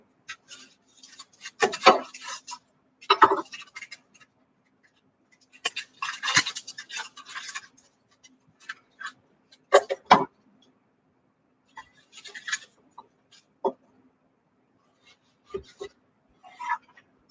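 Knife cutting vegetables on a board in a home kitchen: bursts of scraping and chopping strokes come in irregular clusters with pauses between, fairly close and moderately loud, with no talking.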